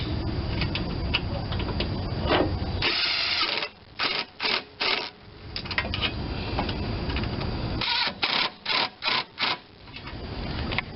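Bolts being tightened on the carburetor of a 10hp Tecumseh snow engine: close, busy metallic clicking and rasping of hand tools, broken by bursts of brief, sharp ratchet-like strokes.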